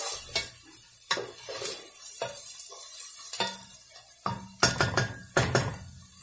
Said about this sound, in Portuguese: Aí joga a cebola. Vai também fritar junto.